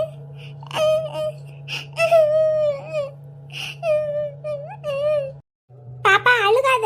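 A little girl cries and whimpers in wailing bursts, her sobbing rising and falling close by, with an adult's voice talking in between and a steady low hum underneath.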